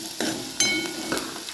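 Crushed peanuts stirred and sautéed with onions in a pan for leftover-rice khichdi, a steady sizzle broken by a few sharp scraping strokes of the spoon; no voices.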